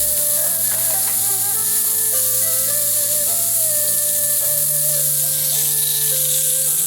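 Onions sizzling on a very hot grill plate, a steady, loud, bright hiss of frying that runs without a break, with faint tonal ringing layered over it and no speech.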